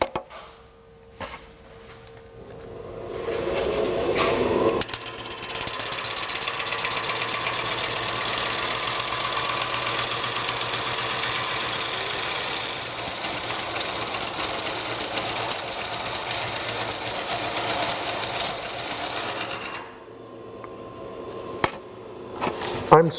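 A wood lathe spins a bowl blank while a coring knife cuts into it, producing a loud, steady high whine and rumble that builds up, holds for about fifteen seconds, then stops abruptly.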